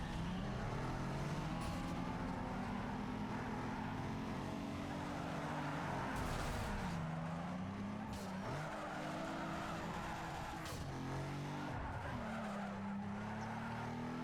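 A race car in Need for Speed Underground 2 revs hard while driving, with continuous loud engine drone, shifting pitch and tire squeal running throughout.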